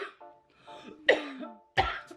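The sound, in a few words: cough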